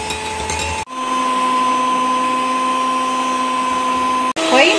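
A blender whirs steadily through chilled milk for homemade orange ice cream, a loud continuous motor hum with a steady pitch, starting abruptly after a brief pause and cutting off near the end before some clinking.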